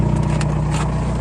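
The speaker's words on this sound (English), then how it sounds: "You can tell it sounds a lot better. Just nothing but diesel noises." A Volkswagen MK4 Jetta with the ALH TDI diesel engine runs steadily at low revs, a close, loud, even rumble with a faint regular diesel clatter and no talking.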